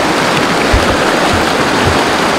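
River water flowing steadily at a trout stream while fly fishing, a broad continuous rushing wash heard up close with a few low thumps, no talking.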